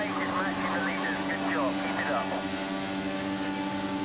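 An IndyCar engine in the racing game Project Cars 2 hums steadily with a tonal whine that rises and falls in pitch, while a voice talks over it.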